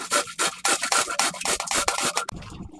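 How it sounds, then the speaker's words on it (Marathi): Cabbage being grated by hand for homemade Manchurian, a close, rapid series of rasping scrapes in an uneven back-and-forth rhythm. "आणि आता ह्याला किसून घेते मी."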